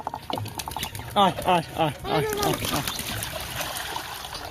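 Water splashes and trickles into a clay bowl set out for pigeons while a person talks over it, with faint bird sounds around.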